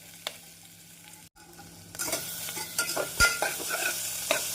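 Onion and garlic sauté in a pan, starting quiet with a faint tap, then a bright steady sizzle with scraping stirs and a spoon knock, fairly close with no talk.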